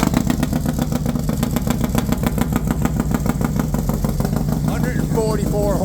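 A Honda CR500R two-stroke motorcycle engine runs at idle with a rapid, loud, even crackle of pulses. A voice speaks briefly near the end.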